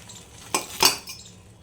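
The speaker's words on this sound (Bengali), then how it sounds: "মা তোলো ঢাকনাটা, তুলে নেবে নাকি?" A metal pot lid lifted off a cooking pan during egg do pyaza preparation, two quick clanking contacts close by over faint kitchen background.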